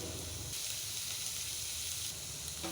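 Loud, steady sizzling of onion, carrot and beans sautéing in a hot pan, a dense hiss that swells briefly and continues without pause.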